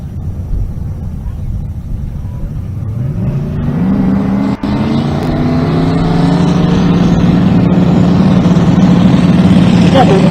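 Engines of a Chevrolet S10 and a Ford Mustang at a drag race in Pueblo, Colorado, rising into a loud, sustained roar that climbs in pitch as the cars pull away, with background crowd and track noise.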